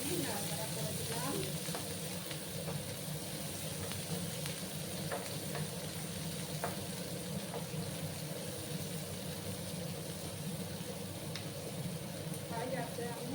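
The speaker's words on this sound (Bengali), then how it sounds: "একটু লাল লাল করে আমি পেঁয়াজগুলোকে ভাজবো" Chopped onions fry in a pan with salt added, giving a steady close sizzle and faint scrapes of stirring throughout, with a low background hum.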